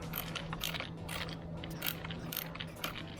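A T30 fastener being worked out of the body shell of a Can-Am Ryker, giving quick ratcheting clicks and small metallic ticks in uneven bursts, close and fairly quiet, with no voices.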